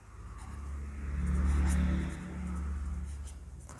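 Marker squeaks and scrapes across a board in long swelling strokes during a programming lesson, fairly close, with a low hum underneath.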